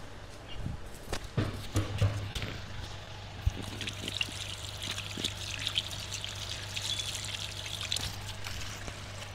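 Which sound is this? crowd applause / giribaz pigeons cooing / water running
water running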